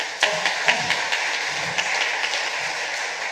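Audience applause at a Taiwanese-language Sunday church service, a burst of clapping with distinct claps in a steady, moderately loud wash that carries on for a few seconds.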